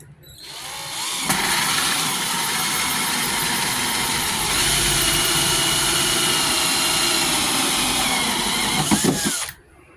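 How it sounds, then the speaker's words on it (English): A power drill whirs steadily and loudly for several seconds as it bores a hole in an ammo box, spinning down abruptly at the end with a brief rattle. "then we're going to drill our hole"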